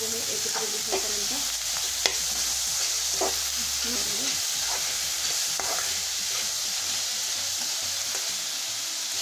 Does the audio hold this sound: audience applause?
no